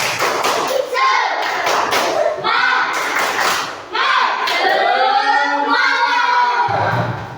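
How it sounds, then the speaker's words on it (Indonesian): A group of children claps a rhythmic spirit cheer, bursts of clapping alternating with loud chanted voices, close and energetic. "Ayo coba, tepuk semangat."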